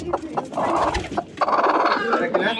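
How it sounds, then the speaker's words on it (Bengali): A black silkie hen clucks in a backyard poultry setting, short repeated clucks close by with another voice talking. "তারপরে এখানে একটা ব্ল্যাক মুরগি,"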